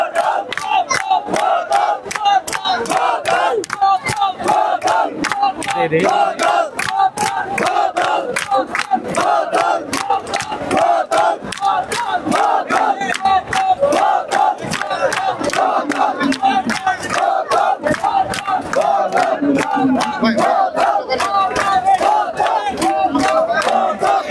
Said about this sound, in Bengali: বোতল হাতে বোতল বোতল স্লোগান তারা কিন্তু দিচ্ছেন